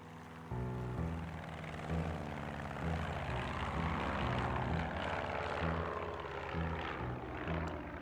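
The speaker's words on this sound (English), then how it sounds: "It was the plane from the game." A propeller airplane engine in a video game drones steadily and loudly, with a low, layered tonal hum that shifts pitch in steps throughout, starting abruptly after a brief quiet moment.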